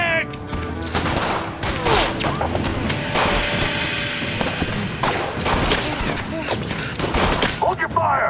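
Gunfire and shattering glass in the video game As Dusk Falls, dense bursts of shots and crashing debris, loud and close, with frantic shouting voices mixed in.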